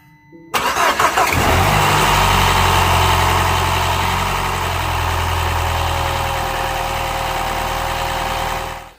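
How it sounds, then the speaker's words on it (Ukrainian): A Mini Countryman 1.6 turbo petrol engine cranks and starts after a brief pause, then runs loud and steady at a rough idle, roaring close by until it cuts off. "а як реве двигун"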